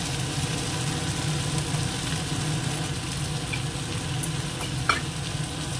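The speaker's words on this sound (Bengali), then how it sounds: "এটাও খানিকক্ষণ ভেজে নিই" Prawns frying in a pan make a continuous close sizzle with a low steady hum beneath and a couple of sharp utensil clicks near the end.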